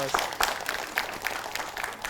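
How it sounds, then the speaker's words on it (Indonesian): Applause from a large audience at an Islamic religious gathering, heard as a moderate, scattered patter of clapping with a few sharper claps standing out across the short stretch. "beri tepuk tangan"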